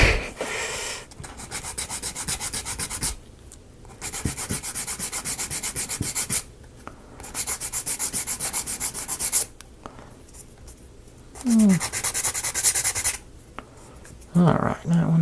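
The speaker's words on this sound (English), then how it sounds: "Should have used coarser sandpaper." Sandpaper rubs back and forth across wood in a close, rhythmic rasp, coming in several bursts of a second or two separated by short pauses.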